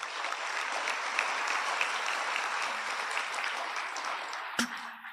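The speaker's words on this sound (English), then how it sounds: "Audience, please give a round of applause." The audience at a 2023 graduation ceremony at Father Muller Homeopathic Medical College gives a round of applause for the award winners. The clapping is thick and continuous, with one sharp louder clap near the end before it thins out.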